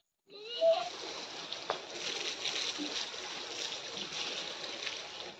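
Water splashes and patters steadily onto plants while they are watered outdoors in the early morning, a continuous close spray running from start to finish.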